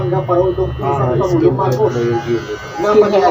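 An electric razor buzzes steadily while shaving the side of a head at a barbershop, with someone talking over the drone the whole time.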